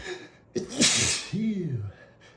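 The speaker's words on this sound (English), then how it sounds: "I gotta sneeze." A single sharp sneeze with a gasping intake of breath beforehand and a voiced exhale afterward, close and fairly quiet, during house cleaning.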